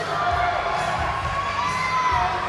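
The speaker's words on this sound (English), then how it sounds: "you can hear the crowd's reaction to Mr." A crowd cheers and shouts loudly as a contestant is announced at a show, with continuous whoops and excited voices filling the space.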